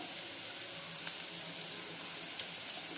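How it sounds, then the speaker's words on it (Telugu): Onions and green chillies frying in a pan give a steady, even sizzle with faint crackles, close and alone, with no talk. "మంచిగా ఉల్లిపాయ గోల్డెన్ బ్రౌన్ వచ్చేంత వరకు ఫ్రై చేసుకోవాలి"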